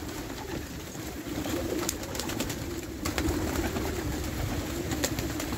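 Pigeons cooing inside a loft, a dense steady chorus of low throaty coos from several birds nearby, with occasional soft clicks and flutters over it and no talking.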